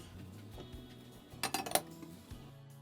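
A few soft metallic clinks and a brief rattle as a lid settles onto a pot of boiling borlotti beans, over a quiet kitchen background.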